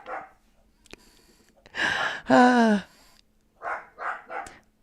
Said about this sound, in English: I think another dog is walking by my property.